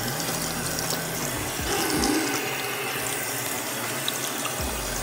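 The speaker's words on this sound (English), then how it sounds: "I am here at my bathroom sink and I'm just gonna try and run some water on it" Water runs from a bathroom sink tap in a steady, moderately loud hiss, with a few low clunks and knocks partway through.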